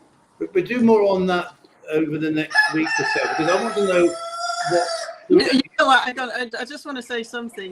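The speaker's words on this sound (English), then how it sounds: "you hear a rooster crowing" A rooster crows on a farm, the long rising call partly mixed with someone talking close by in a live chat.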